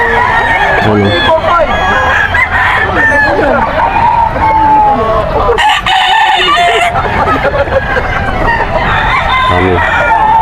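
Roosters crow repeatedly and chickens cluck at a poultry sale in Bocaue, Bulacan, a loud, dense crowd of birds with overlapping calls and a steady background hubbub.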